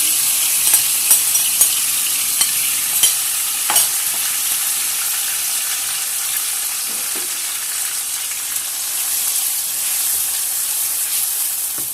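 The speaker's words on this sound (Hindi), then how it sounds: "अब ये देखो ऑयल गर्म हो गया, इसमें मैं डालती हूँ।" Chicken sizzles loudly in hot oil for a paratha roll, a dense steady frying hiss with scattered sharp pops and spatters, close up and without talk.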